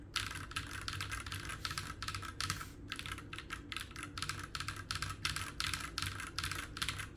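Rapid, clacky keystrokes on a Keychron Q3 mechanical keyboard, close up and continuous, with a brief pause partway through.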